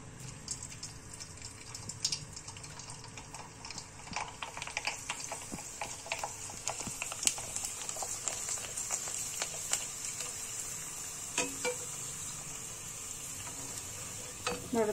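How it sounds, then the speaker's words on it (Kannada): Chakli sandige dropped into hot oil fry with a continuous sizzle and frequent crackling pops, close and fairly quiet, steady throughout with no talking. "ಎಣ್ಣೆ ಕಾದಿದೆ, ಈಗ ಹಾಕ್ತಾ ಇದ್ದೀನಿ."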